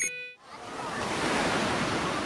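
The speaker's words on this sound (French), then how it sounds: "Là, on entendait clairement les vagues" Waves washing on a shore in a video game's audio file, a steady broad rush of surf that starts abruptly after a brief tonal sound and continues alone without talk.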